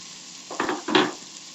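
Vegetables cooking in a pot of oil for a bacon-free lentil soup, with two short bursts of sizzling and stirring close by, each about a third of a second long, over a quiet background. No one speaks.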